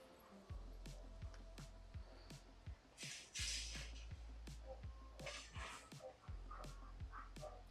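A dog outdoors gives faint whimpers and short yips amid scattered thumps and rustling, with a few soft bursts of noise, low in level throughout.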